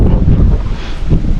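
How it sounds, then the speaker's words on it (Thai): Strong wind on a boat buffets the microphone in a loud, continuous roar with gusty surges throughout. "ลมพัดส่งพอดีเลยอย่างแรงเลย"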